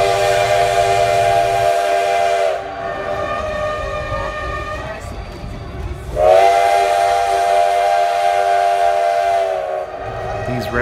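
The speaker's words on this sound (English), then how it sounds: "then we took a ride on a scenic railroad" An 1880 scenic railroad steam train's whistle blows loudly twice in long sustained blasts, with hissing steam and rumbling rail noise between them.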